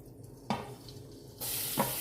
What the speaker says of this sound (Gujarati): ઘી ગરમ થઈ ગયું છે, હવે હળદર એડ કરી દઈશું